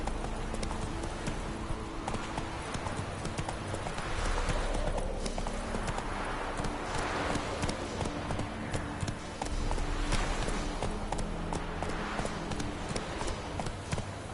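Hooves clip-clop steadily as a horse runs in a video game. The beats are close and continuous in a fast, even rhythm, over a bed of ambient background sound, with a faint whinny possible.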